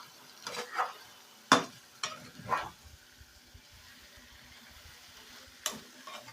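Pomfret pieces stirred in hot spiced oil in a pan, with a few sharp scraping clatters and brief sizzling bursts spaced apart, fairly close and moderate, then mostly quiet low crackle.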